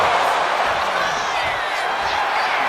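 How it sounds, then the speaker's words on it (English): A large arena crowd cheering during a wrestling match in the video game WWE 2K25, a loud, continuous roar of voices that holds steady without pause. "getting the crowd behind her"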